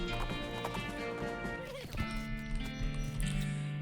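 Horse hooves clip-clopping at a steady rhythm as a character rides away in the video game West of Loathing, with a brief whinny over a bed of music.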